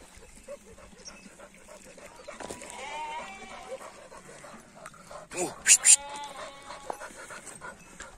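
Lambs and sheep bleat in a few short calls, fairly faint and close by, mixed with scattered dog sounds and outdoor farmyard noise as people move around them.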